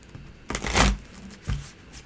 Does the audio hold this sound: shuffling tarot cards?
yes